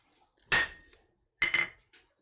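Two sharp metallic hammer blows on hot iron in a smithy, each ringing briefly with a bright clang, a second apart, close and clear against a quiet room.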